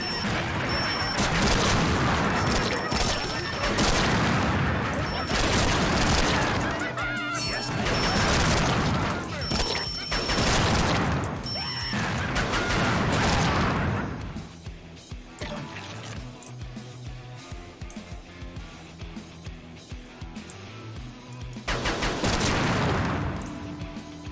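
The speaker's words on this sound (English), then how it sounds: "That's like a grenade launcher, I see." Repeated heavy booming blasts from a grenade launcher in the shooter game Slayers X, loud bursts arriving in clusters with crashing debris and game noise between them, no talk over it.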